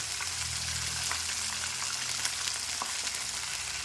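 Pointed gourd and chopped onion frying in a generous amount of oil, a steady close sizzle with crackling spatter throughout and occasional stirring scrapes, no talking.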